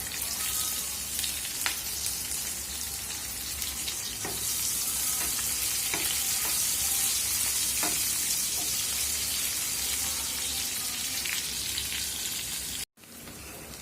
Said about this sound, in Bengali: 1টা তেজপাতা, একটা বড় পেঁয়াজ কুচি দিয়ে দিচ্ছি